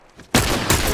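Hunting rifle shot in The Last of Us multiplayer, a single loud, sudden blast that rings out over a quiet background with a second burst of reverberant crack close behind.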